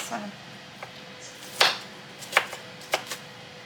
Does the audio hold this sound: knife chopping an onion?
yes